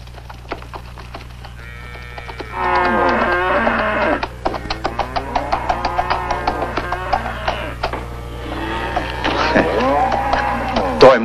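A herd of cattle on a rural Brazilian cattle drive moos several times, some calls long and drawn out, others shorter, over a steady low hum and scattered clicking sounds.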